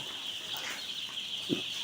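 Hundreds of young chicks on a poultry farm cheep in a dense, high, continuous chorus, a brief low bump near the end, heard briefly at close range with no talking.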